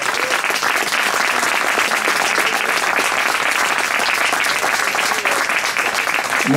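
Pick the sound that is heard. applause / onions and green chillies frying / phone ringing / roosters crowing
applause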